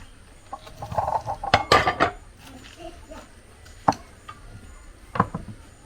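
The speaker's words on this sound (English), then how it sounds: "So this vegetable I've already washed it, so I want to cut it." Washed vegetables are cut with a knife for a vegetable soup, giving a few sharp chopping knocks and a clustered burst of close clatter, then two more isolated cuts spaced apart.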